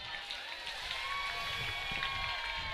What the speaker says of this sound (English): You hear the crowd in the background cheering